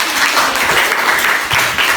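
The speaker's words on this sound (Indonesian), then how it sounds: "Beri tepuk tangan." A classroom of students gives a sustained round of applause, many hands clapping steadily and loudly for two seconds without pause.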